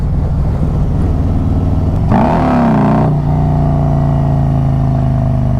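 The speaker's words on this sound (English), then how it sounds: "it just roasts the tires" A Harley Road Glide Stage 2 with a Khrome Werks Outlaw exhaust does a burnout, roasting the rear tire: a loud, close, steady engine rumble swells in a sharp rev for about a second, then settles into a held drone.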